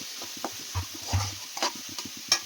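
A spoon stirs spiced jackfruit kofta curry in a pan, giving soft scraping strokes and faint sizzling in an irregular rhythm.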